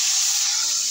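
Dal poured into a hot pan of vegetables gives a loud, steady hiss of sizzling that holds evenly throughout, close up and with no talk over it.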